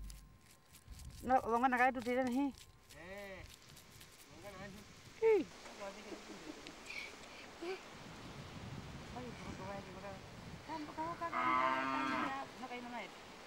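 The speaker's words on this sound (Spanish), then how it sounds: "lleva las vacas a beber a los pozos excavados en los lechos secos del río" Cattle moo in long, rising and falling calls, several overlapping, as they are led to drink at wells dug into a dry riverbed in desert country, with wind and rustling between calls.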